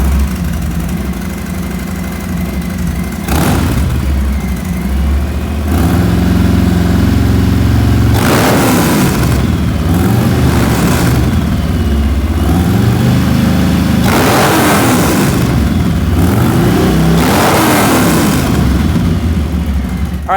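Milwaukee 8 Softail motorcycle fitted with a Kobra 2-into-1 exhaust, loud and close, idling with a deep lumpy rumble between several sharp throttle blips and revs.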